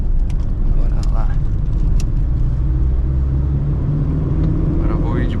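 A 1997 Chevrolet Corsa Wind's engine drones while driving on the road, a loud, steady low rumble with road and wind noise, as someone talks over it.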